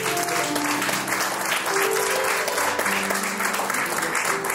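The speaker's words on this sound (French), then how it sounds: "Pouvez-vous acclamer pour vous-même?" A large audience at a community gathering in Côte-des-Neiges claps and cheers for itself, a dense, steady wash of applause with scattered whistles and shouts lasting throughout, close and loud.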